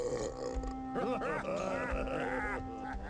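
An orc's loud, drawn-out burp in the Warcraft Adventures: Lord of the Clans video game, a croaking, grunting belch with bleat-like wavering pitch and a low steady game hum underneath.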